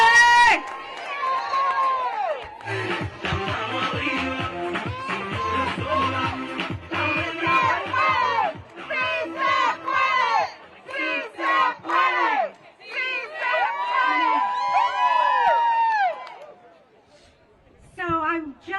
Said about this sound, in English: Let's give it a huge round of applause.